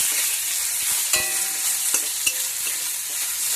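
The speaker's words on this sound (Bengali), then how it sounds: "আমার পেঁয়াজটাও লাল লাল করে ভাজা হয়ে গেছে। এখন এই টমেটো কটা দিয়ে দেবো" Onions and a small tomato fry and get stirred in a pan for a Bengali fish curry, a loud continuous sizzle close by with several sharp scraping clinks of the spatula and no talk.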